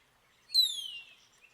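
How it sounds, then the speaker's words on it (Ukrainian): A Eurasian blackcap gives one clear, high, whistled note that slides downward and lasts about half a second. It sounds fairly close against otherwise quiet surroundings, with no voices. "це євразійський блеккеп, якась е, чорноголова пташка"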